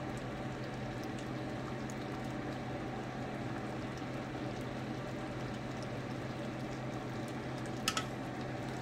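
Pot of potatoes simmering on medium-low heat, a steady bubbling and hissing wash that holds even and unbroken throughout, with one brief click near the end.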